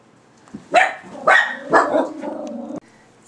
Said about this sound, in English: I knew my dogs would bark for you